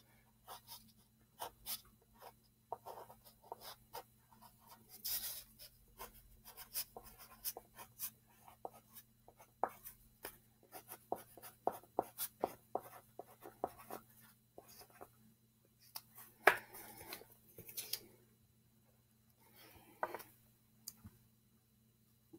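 Black crayon writing on paper, faint close scratchy strokes in short irregular bursts with brief pauses between letters, quiet over a low steady hum, no talk.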